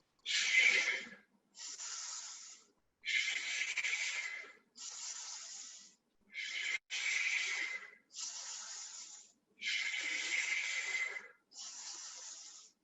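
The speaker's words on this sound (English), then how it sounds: "Let's take 6 breaths." Slow, deep breaths taken by people during a standing exercise session, nine long airy hisses of inhales and exhales separated by short pauses, fairly close, quiet and steady with no talking.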